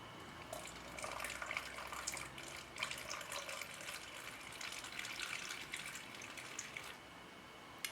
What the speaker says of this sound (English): we're going to add 125 mils of cold water